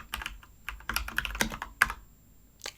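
Fingers typing on a computer keyboard at a shell prompt, irregular bursts of close, crisp key clicks with short pauses between them, no talking.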